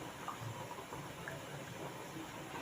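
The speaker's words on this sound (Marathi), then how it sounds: "याला एक उकळ येऊ देऊया चांगली." Four cups of water for veg pulao heating toward a boil in a pot, giving a faint, steady hiss with soft bubbling throughout and no voices.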